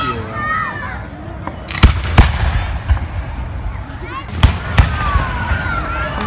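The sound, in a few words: fireworks exploding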